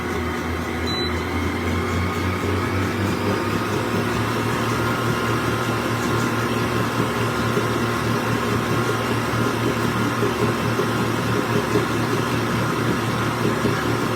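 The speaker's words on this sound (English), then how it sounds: "I'm just going to beat our cream together, the sugar and butter, until it's nice and mixed." Electric mixer beating butter and sugar together, a steady close motor whir with a constant low hum lasting the whole time, no talk over it.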